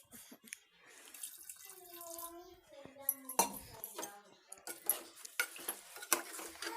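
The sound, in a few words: pouring a glass of water into chicken kurma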